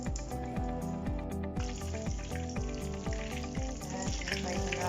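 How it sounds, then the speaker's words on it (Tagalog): Chicken wings fry in a pan with a steady, loud sizzle and crackle throughout, joined by a rhythmic undertone of pulsing tones and no voices. "Ito-fry na po natin yung chicken wings."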